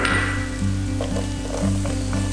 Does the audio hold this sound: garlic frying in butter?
yes